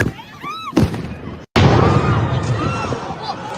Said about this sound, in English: We just had an explosion here.